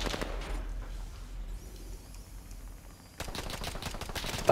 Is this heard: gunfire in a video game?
yes